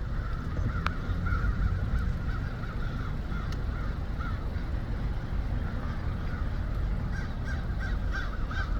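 A large flock of crows gathered around buildings, many birds cawing in overlapping, repeated calls at middle distance over a steady outdoor rumble, with no talking.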